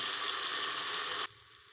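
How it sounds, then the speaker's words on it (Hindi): Garlic sizzling in a hot pan for pakora kadhi, a steady bright hiss that cuts off abruptly after just over a second, leaving only quiet room tone. "अब इसमें हम लहसुन डालेंगे, इसको भी भूनेंगे साथ, इसको भी भूनेंगे"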